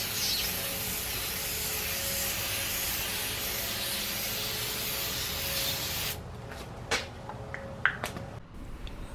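A spray can applies a second coat of protective coating to a Chevrolet Impala headlamp lens, producing a long, steady hiss that stops abruptly and is followed by a few faint clicks and handling noises.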